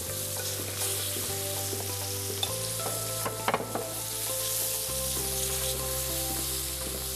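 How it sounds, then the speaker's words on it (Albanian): Veal pieces fry in a pan with a loud, continuous close sizzle and occasional scraping clicks from stirring, with a low steady hum beneath and no speech. "Pra do t'i skuqim pak nga një ranë dhe pak nga ana tjetër"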